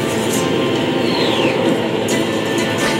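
A train in the TV show Firefly gives a loud, continuous rumbling roar close by, with a brief rising whine and a few faint clanks over the steady noise.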